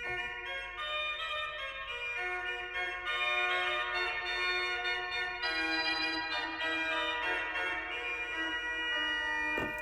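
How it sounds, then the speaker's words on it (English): A bright, reedy pipe organ Cornet Magna stop plays a slow solo melody of sustained notes, rich in harmonics, alone without voices. "I forgot the Cornet Magna, which sounds like this."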